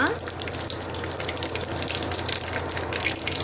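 Mustard and cumin seeds hit hot oil in a pan for a simple rasam tempering, giving a steady, loud hissing sizzle that holds evenly throughout with no voices over it.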